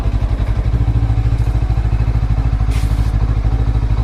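A Lifan KPT 400 motorcycle fitted with a 43-tooth rear sprocket putters along in first gear, its loud, close engine thumping in a steady, even rhythm throughout.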